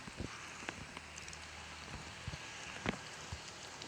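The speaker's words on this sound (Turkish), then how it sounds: "Yağmur başladı bir dakika." Rain falls in the Roblox game Brookhaven, a faint, steady patter with scattered louder drop taps and soft ticks throughout.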